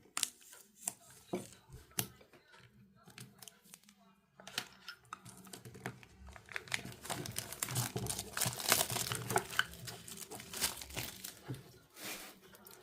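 Plastic wrapping is crinkled and torn away from a Craft Felt Tarot card deck by hand, a busy run of close, crackling rustles that grows denser and louder partway through.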